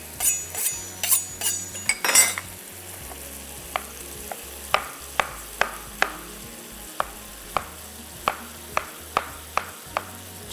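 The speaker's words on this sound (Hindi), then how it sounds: "ये हो गए टमाटर कट" Tomatoes being sliced with a knife for a Mongolian chicken pasta: a brief clatter of utensils, then a steady run of crisp, evenly spaced cutting-board taps, close and clear with no voices.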